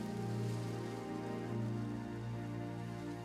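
Steady rain hissing down, a constant wash of patter with no clear pauses and no voices.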